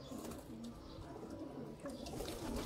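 A Kamagar pigeon of the Sialkoti breed coos softly nearby, repeating low, throaty rolling calls at a quiet level with no talking over them.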